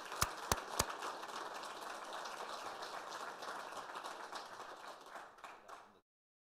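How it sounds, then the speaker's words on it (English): A few sharp, close claps open a soft, scattered round of applause at a commission meeting honoring an award winner, the clapping staying fairly quiet and even before cutting off abruptly. "So another round of applause for Brent."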